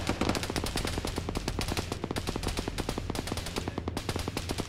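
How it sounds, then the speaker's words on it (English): Rapid automatic gunfire from a military video game battle involving tanks and a Bradley vehicle, with dense, continuous bursts of shots rattling steadily and loudly without pause. "I'm gonna wait for the bullets to stop."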